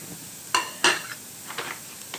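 Onions being stirred in a cooking pot, two sharp scraping clatters close by followed by a few softer, fainter scrapes with quiet gaps between them.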